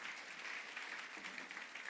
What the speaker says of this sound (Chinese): 我们再次拍手来祝福他们。